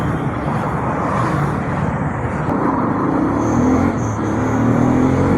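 A riding team on Himalayan 450 motorcycles arrives for a club ride to a temple in Karnataka, their engines a steady close rumble with rising revs as the bikes draw near.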